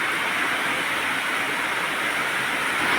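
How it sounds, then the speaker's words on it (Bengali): Heavy rain falls steadily throughout, a dense, even hiss of downpour with no pauses and no voices. "প্রচুর বৃষ্টি পড়ছে"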